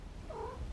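A cat gives a single short meow, quiet and close, over a low background hum.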